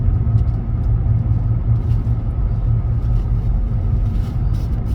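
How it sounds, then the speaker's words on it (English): Steady low car rumble throughout a daily morning drive, engine and road noise continuous and fairly loud from inside the vehicle, with no voices. "this is my little drive. I do it every day"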